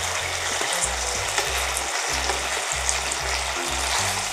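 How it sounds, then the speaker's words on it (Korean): Seasoned pork sizzles in a pan as green onions go in, a steady loud frying hiss with rhythmic stirring and scraping thumps throughout, no talking. "이때 대파를 넣어주세요."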